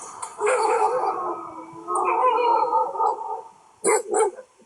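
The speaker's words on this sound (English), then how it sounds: "That sounds a little more than 5 dogs to me." Several dogs bark and howl together in a loose chorus of yips and drawn-out howls, fairly close, followed by a couple of sharp barks near the end.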